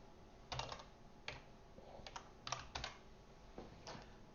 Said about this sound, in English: that is a lot of typing